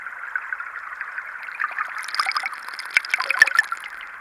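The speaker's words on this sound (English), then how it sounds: "this is the stream" Stream water picked up underwater by a CJOSSUL V2 hydrophone: a steady, close trickling wash with bubbly splashes and faint ticks that grow busier and brighter toward the end, no voices.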